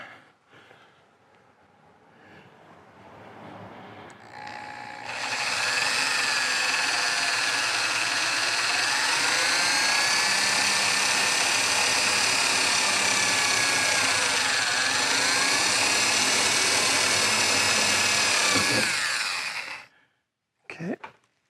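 A power drill bores a pilot hole while a hood lift kit is fitted to a 2003–2004 LST, its high motor whine starting abruptly and holding steady and loud for about fifteen seconds, pitch dipping as the bit loads, then stopping.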